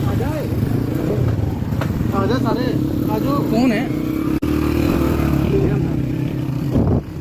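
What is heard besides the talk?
motorcycles setting off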